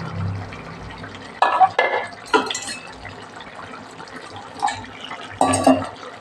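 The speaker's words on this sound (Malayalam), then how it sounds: "ഇത് നമുക്ക് നാളികേരം അരച്ച് വെച്ചത് ഒഴിക്കാം" Thick, wet pouring and glopping sounds as ground coconut paste is added to a simmering fish curry, in several separate bursts with quiet gaps.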